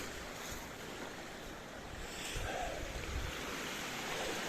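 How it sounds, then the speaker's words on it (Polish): Stream water flowing at night through a forest, a steady broadband rushing wash that stays constant and close throughout, with slight swells midway. "Teraz musimy sobie przejść przez strumyk."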